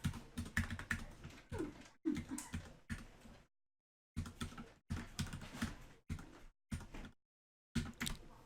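Password keys tapped on a computer keyboard while logging into an SQL server, quick close clicking bursts with short pauses between groups of keystrokes, quiet, with no speech.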